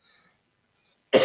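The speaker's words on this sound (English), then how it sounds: "I cough." A man coughs once, a short loud throat-clearing burst close to the microphone after near silence.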